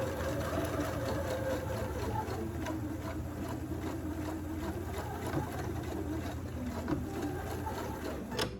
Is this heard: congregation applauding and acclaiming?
no